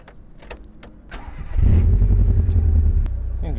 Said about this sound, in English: now we're gonna start up the car after putting in the spark plugs